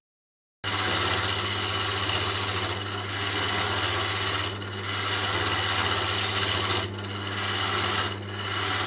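Woodturning tool cutting away the tenon on a wooden milk churn spinning on a lathe, a continuous broadband rasping scrape over a steady motor hum, lasting throughout with brief dips as the tool shifts.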